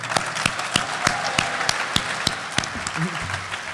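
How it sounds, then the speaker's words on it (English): An audience at an end-of-summer celebration applauds for James, a steady crowd of clapping with sharp individual claps standing out, and voices briefly audible toward the end. "Let's get another round of applause for James."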